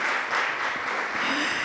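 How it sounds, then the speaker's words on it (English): An audience at a welcome event for a remote-sensing school claps for a sponsor, a steady, dense wash of applause that holds evenly through the whole short stretch, with no voices over it. "Yeah, a big clap to him."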